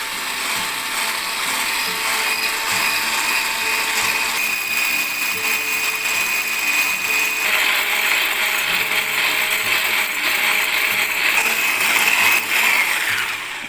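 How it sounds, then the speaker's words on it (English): Egg whites with a pinch of salt are whisked, most likely with an electric mixer, giving a loud, continuous whirring and rattling drone that shifts pitch midway and carries on steadily for the whole stretch, with no talking. "egg white, we're gonna prepare it separate, and I have a pinch of salt. We're gonna whisk it."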